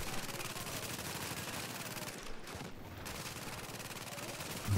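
Automated turret in a survival PvE shooter game firing sustained rapid bursts at a grenadier, a dense continuous rattle of gunfire that barely pauses, loud and close.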